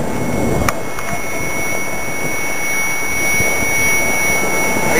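A Diablo model aircraft flying, with a steady, loud, whining motor roar that holds constant throughout, close by and unbroken.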